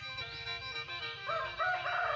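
A rooster crows loudly and close among laying hens at feeding and egg-collecting time, its drawn-out call rising over a low, steady murmur of farmyard noise.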